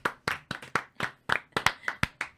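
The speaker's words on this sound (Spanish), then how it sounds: "¡Aplausos, gente!" Studio audience clapping on a Spanish-language church talk show, a sparse run of about a dozen distinct, fairly close hand claps rather than a dense roar of applause.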